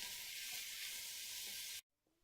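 Bacon sizzles and spits loudly in a cooking pot, a constant close hiss that cuts off abruptly near the end.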